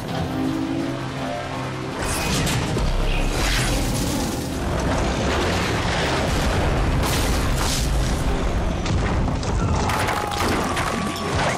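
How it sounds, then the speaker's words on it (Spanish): Explosions and crashes from the Hot Wheels Battle Force 5 animated series, heard in Spanish. Loud, dense blasts and rumbling impacts mix with roaring vehicle engines and continue without a break. "Explosiones."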